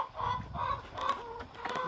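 Chickens cluck repeatedly in a backyard coop on a small farm in Maine, giving short, close, moderately loud calls in an uneven rhythm with no talking.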